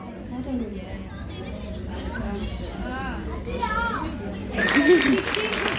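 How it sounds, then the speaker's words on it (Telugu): An audience at a community Ganesha Chaturthi entertainment evening breaks into clapping near the end, a burst of applause rising over the chatter and children's voices that fill the earlier part. "నాకు అర్థమయ్యే లాంగ్వేజ్ ఓన్లీ క్లాప్స్"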